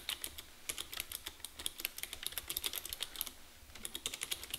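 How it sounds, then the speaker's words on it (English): Typing on a computer keyboard, close and crisp, with rapid irregular clicks of keys running continuously with only short pauses. "you can see as I'm typing things here"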